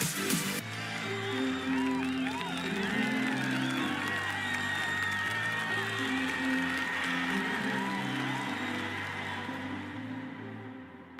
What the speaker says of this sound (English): One more round of applause for our crew for the AX-2 mission.